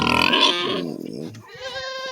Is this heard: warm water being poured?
no